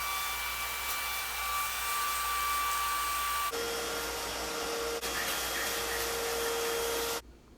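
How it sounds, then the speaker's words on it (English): A vacuum cleaner sucks dust from a home air vent during an air filter replacement, a loud steady whine running throughout, its pitch shifting midway and cutting off just before the end. "we'll go ahead and vacuum it up"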